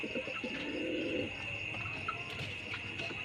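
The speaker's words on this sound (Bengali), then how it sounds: "এই যে নটটা খুবই ডাকাডাকি করতেছে" A Rajgolla pigeon cock in heat calling, soft cooing bursts near the start over a faint background of insects and distant birds, fairly quiet and without speech.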